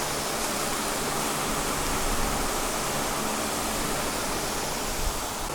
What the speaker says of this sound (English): this is with misting effect on full. I've got the water all the way on now